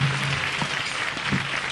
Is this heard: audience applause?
yes